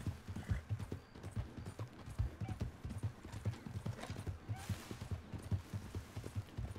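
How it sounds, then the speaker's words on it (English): Horse hooves clip-clop in a steady galloping rhythm while riding cross country in a video game, fairly quiet and continuous, with a brief whinny-like swell midway. "as happy as riding cross country on your horse"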